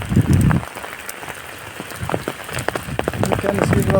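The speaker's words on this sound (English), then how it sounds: "it has been raining also here in my village" Rain falling in a village, a crackling patter of drops on surfaces that comes and goes in dense bursts, with a brief muffled voice near the start.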